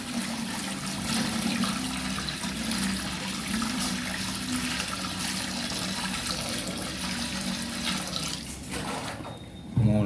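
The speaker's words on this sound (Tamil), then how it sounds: "இப்போ பின்ன அரிசி வேகத்துக்கு தனியாக தண்ணி 3 லிட்டர் ஊற்றப்போ 3 லிட்டர் தண்ணி." Three litres of water poured into a cooking pot for boiling rice, a steady continuous rushing gush that runs unbroken for several seconds before ending abruptly.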